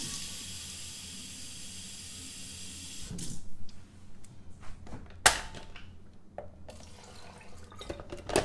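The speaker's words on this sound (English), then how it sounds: "so I'll throw a little water in there." Water runs steadily for a few seconds before being poured into a blender of chopped lemon balm, ending in faint splashes and a few sharp knocks.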